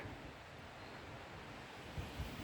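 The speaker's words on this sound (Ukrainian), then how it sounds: "На сьогодні вітряно і дуже шумно в лісі, але гарно." Steady rushing wind through spring forest trees in Ukraine, a broad continuous roar with a couple of low gusts or bumps near the end, no voices.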